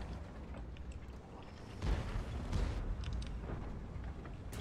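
Tank guns in World of Tanks boom in the distance, a few muffled heavy thumps over a low rumbling battlefield backdrop, faint and spread out.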